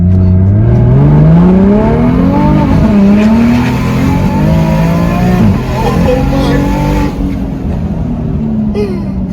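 A BMW F80 M3 with a single-turbo conversion accelerates hard from inside the cabin, its engine note climbing steadily through the gears. The sound is loud and continuous, with brief dips at the shifts, and there is faint talk underneath.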